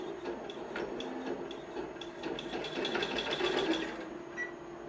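A Redline single-head embroidery machine stitches up close with a rapid, steady mechanical chatter and clicking that carries on for several seconds before easing off at the end.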